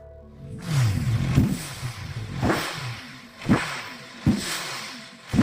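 A V8-engined motorcycle accelerates in a series of loud, separate revving surges, each rising sharply and then falling away, with no talk over it.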